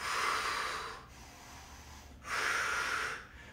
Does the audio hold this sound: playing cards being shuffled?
no